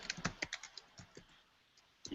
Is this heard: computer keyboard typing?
yes